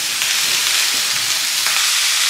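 Chopped potato and beetroot fry in oil with onions, giving a loud, dense, continuous sizzle close up with faint stirring crackles.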